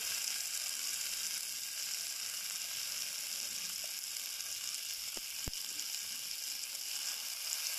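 Boiled yardlong beans sautéing in mustard oil in a pan: a steady, even sizzle throughout, close but fairly quiet, with a couple of faint clicks from the utensil.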